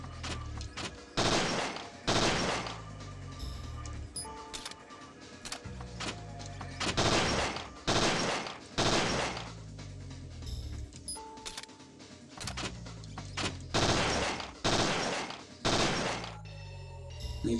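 Gunfire in Parasite Eve 2, loud sharp shots arriving in spaced clusters of two or three, each with a brief ringing tail, repeating across the whole stretch with short gaps between bursts.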